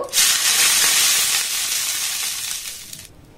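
Water splashes into a hot, lightly oiled pan and sizzles at once, a loud bright hiss that holds steady for about three seconds and then cuts off, with no one talking.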